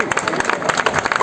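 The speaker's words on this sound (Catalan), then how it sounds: "Un fort aplaudiment a Fernando per la placa." Audience applauding Fernando as he receives a commemorative plaque at a tribute event, brisk close clapping throughout a short burst, with voices mixed in.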